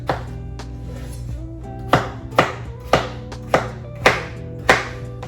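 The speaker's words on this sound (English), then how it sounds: "I am just peeling these potatoes because we're gonna make some homemade mashed potatoes" Potatoes being prepared for homemade mashed potatoes, heard as a series of sharp knife-on-board chops that fall into an even rhythm, about six close, distinct strikes over a steady background hum.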